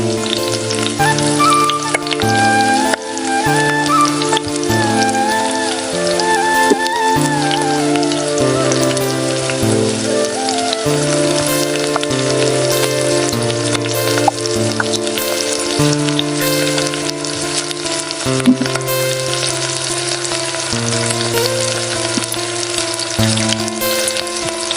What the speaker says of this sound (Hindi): अब इसमें हम फ्राई करेंगे अपने वॉन्गटॉन